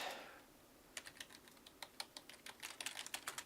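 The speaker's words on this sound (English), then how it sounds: "You guys can you can hear me typing, right?" Soft, rapid keystrokes on a computer keyboard inside a video game, starting after a faint breath and continuing in an irregular, quiet burst of clicks.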